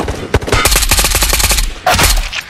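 Automatic gunfire in the VR shooter Ghosts of Tabor during a player-versus-player fight, a loud sustained burst of rapid shots followed by a brief pause and another short burst, close and dominant.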